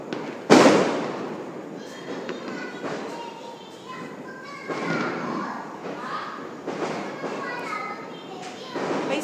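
Firecrackers set off by children in a street in the Philippines: one sharp loud bang followed by scattered pops and crackles, with children shouting and talking throughout.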